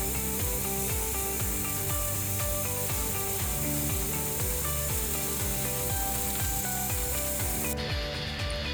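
A rotisserie motor turns a pineapple over a live fire, giving a steady, repeating mechanical whir and ratcheting rattle under a constant dense crackle, with no voices.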